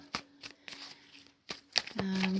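A deck of tarot cards is shuffled by hand in a few quick, crisp riffling bursts, close and fairly quiet, followed by a brief low hum.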